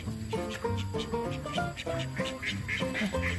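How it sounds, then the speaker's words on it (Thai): Young ducks on a farm quack in a rapid, overlapping chorus of short, nasal calls, close and steady. "นั่นอันนี้เป็ดเด็ก"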